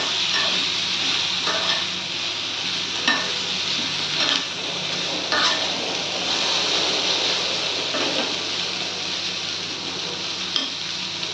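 Vegetables with salt and turmeric hiss and crackle in a pan while being stirred, a loud, steady sizzle close by with periodic spatula scrapes and light clatter against the pan.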